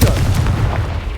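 In Hogwarts Legacy, a Confringo blasting spell explodes against rocks with a loud, deep, close boom that rolls on briefly as a rumbling tail.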